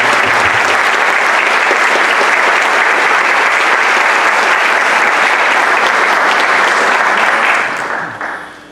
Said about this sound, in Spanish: pido que el Congreso le rinda un fuerte aplauso